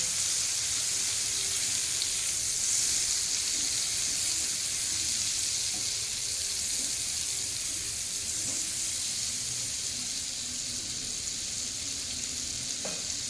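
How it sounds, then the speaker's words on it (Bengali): Butter melts in a hot pan being readied for roasting chicken leg pieces, giving a steady, even sizzle and crackle that runs unbroken throughout with no talking. "এখন বাটারটা গলিয়ে নেব আর এই সময় চতুর্দিকটা ছড়িয়ে দেবো।"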